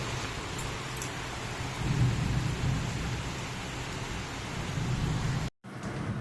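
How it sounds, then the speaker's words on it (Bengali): Heavy rain pours steadily as a dense, continuous wash, swelling slightly midway and cutting out briefly near the end before resuming. "একটা হেভি জোরে বৃষ্টি পড়ছে আরও অনেকক্ষণ আগে থেকে পড়ছে বৃষ্টিটা"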